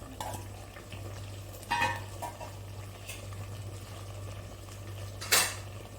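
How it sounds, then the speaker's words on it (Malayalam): Carrot, ash gourd, potato and drumstick pieces tumble into a cooking pot for a homestyle Kerala tamarind curry. A few soft clatters sound against a steady low kitchen hum, with no talking. "നമുക്ക് ഈ കഷ്ണങ്ങളെല്ലാം ഇട്ട് കൊടുക്കാം"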